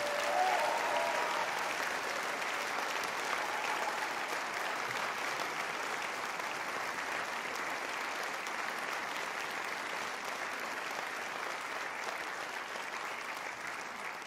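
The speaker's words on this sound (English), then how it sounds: "a big round of applause for this fantastic band." Sustained audience applause for a big band at the end of a performance: a dense, steady wash of clapping across the whole stretch, fairly loud and even, with no voices over it.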